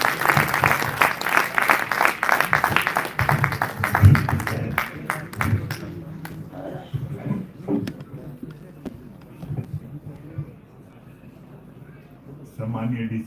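Loud audience applause for Hindi poet Sampat Saral at a poetry gathering, dense clapping at first that thins and fades toward the end, with a voice briefly heard over it.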